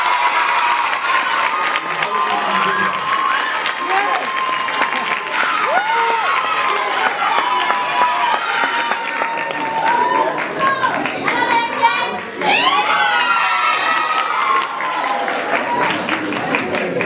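A school crowd applauds and cheers a student trophy winner at a head boy's prize event, with sustained dense clapping that is loud and steady, and excited voices and shouts woven through it.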